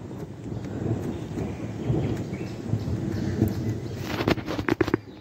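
Low thunder rumbles on and off during a rainstorm at a cave and picnic area, with rain patter and a burst of sharper crackling drops near the end, and no voices.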